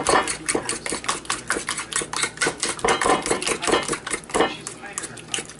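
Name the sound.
mixing ricotta cheese in a bowl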